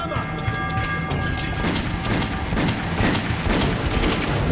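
Gunfire in Metro 2033 Redux rattles in dense, rapid bursts of automatic shots with booming impacts, loud and continuous across the whole stretch.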